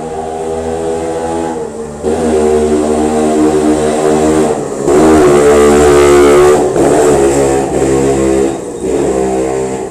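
A motorcycle passes close by, its loud, steady engine drone swelling and easing in waves over several seconds, alone without talk.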